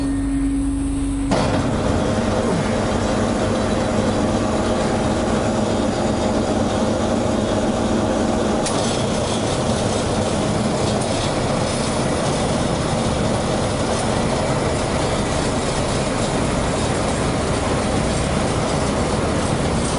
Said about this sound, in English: we'll get started here by starting the calibration motor to charge our augers